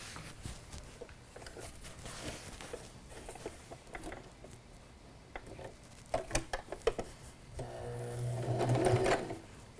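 A home sewing machine stitches a straight line in a quiet room, a faint, rapid mechanical patter with small clicks and brief stops before a louder whirring run near the end.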